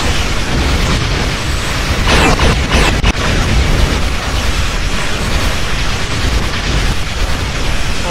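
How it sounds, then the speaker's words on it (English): Explosions chain-reacting in a Star Trek Online space battle: a dense, loud rumbling roar with a few sharper bursts near the middle, sustained throughout. "so the explosions will chain react"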